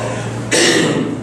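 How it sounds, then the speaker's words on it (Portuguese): One short, sharp cough, close and fairly loud, over a faint steady background hum. "Desculpa, estou tossindo aqui."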